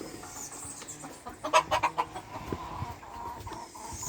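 Chickens on a French poultry farm cluck in a short run of soft, close calls, with quieter background clucks and farmyard rustle around them.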